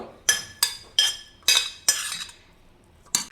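Spoon clinking against a bowl while fried sprouted grains are served out, five sharp metallic clinks at a steady rhythm, then a pause and one more, close and clear with no talk.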